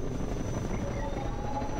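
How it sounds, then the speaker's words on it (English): A helicopter in the Half-Life 2 video game, a steady rumbling rotor drone that holds evenly throughout, loud and continuous with no talk over it. "That freaking helicopter thing!"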